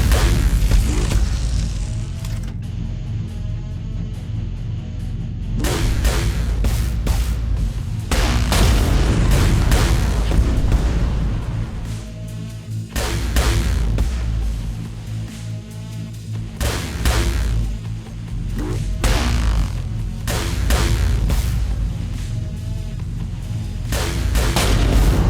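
Rocket explosions in the space game Trigon: Space Story, loud booming blasts and sharp cracks in rapid, irregular volleys that pile up continuously over a low rumble.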